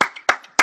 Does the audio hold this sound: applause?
yes